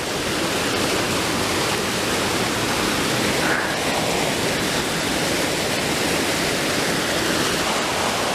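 A small waterfall on Vancouver Island roars in a steady, loud, unbroken rush of falling water, close by and with no other sounds over it.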